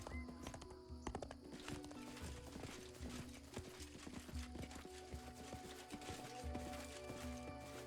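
Horse hooves clip-clopping in the fantasy role-playing video game Pathfinder Kingmaker, a steady run of hoofbeats with a brief whinny, set against continuous game ambience and music.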